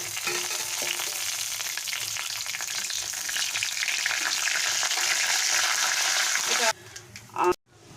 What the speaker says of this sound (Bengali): তেজপাতা দুটো দারচিনি চারটে এলাচ আর দুটো লবঙ্গ আর হাফ টিস্পুন গোটা জিরে তো আমি দিয়ে দিলাম